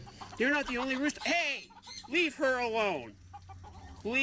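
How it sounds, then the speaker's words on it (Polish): A rooster and chickens cluck and squawk in quick, up-and-down calls, close by, with short gaps between bursts. "Hey, rooster. O, jakie fajne kury."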